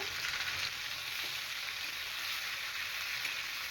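Chopped hog plums sauté in a pan with salt and turmeric for a pickle, a soft, even frying hiss that stays steady and fairly faint without any talking.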